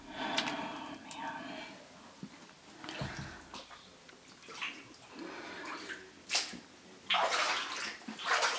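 Flood water splashes off a fan in a deep, flooded basement at night, an irregular sloshing and spattering close by, with someone speaking quietly over it.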